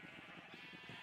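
Sheep in Minecraft give a quick wavering bleat, a short close call repeated in rapid pulses within a second.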